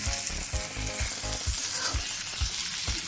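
Bitter gourd (karela) fries in hot oil with a dense, constant close sizzle, and soft low thumps at a steady rhythm sound throughout, without talk.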